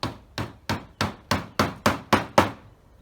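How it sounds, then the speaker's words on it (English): A hammer drives nails into wood while building a horizontal beehive, nine sharp, evenly spaced blows growing slightly louder, close up with no talking. "We're hammering, nailing so close to the edge."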